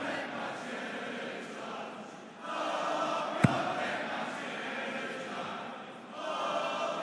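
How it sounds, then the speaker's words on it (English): A darts audience at a European Tour match chants a player's name in a rhythmic, swelling crowd roar that dips briefly and surges again, with a single sharp thud cutting through midway. "I applaud the audience for getting his name into that chant."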